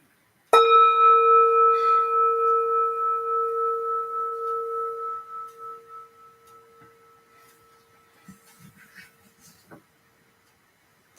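A single meditation bell is struck once, giving a clear ringing tone that sustains and slowly fades over several seconds in a quiet room, followed by faint soft rustling.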